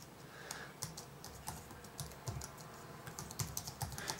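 Someone types a label on a computer keyboard, producing a quiet, irregular patter of close key taps with short pauses between bursts.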